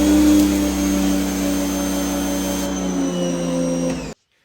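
A pressure washer fitted with a 15-degree nozzle runs in a steady, loud motor whine with a constant tonal hum, then cuts off abruptly near the end.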